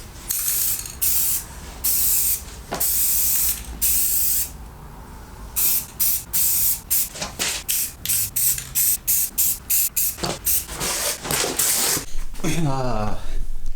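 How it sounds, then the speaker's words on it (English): Repeated short bursts of a spray can laying etching primer onto fabricated metal seat brackets for Recaro SR2 seats in a 240SX, loud and close, with a steady hiss first and then a rapid series of separate puffs. "I'm gonna get some etching primer on here"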